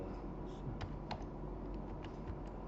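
Fingers tap out a short file name on a computer keyboard, a quiet run of separate clicky keystrokes over a low, steady room hum.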